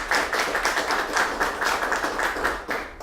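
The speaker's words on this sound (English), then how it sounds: "let's give a round of applause to our judges" Audience at a space business plan competition claps for the judges, a fairly close, rhythmic patter of a modest crowd with individual claps distinguishable, steady for a few seconds before tapering.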